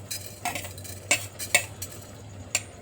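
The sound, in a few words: stirring spices roasting in a pan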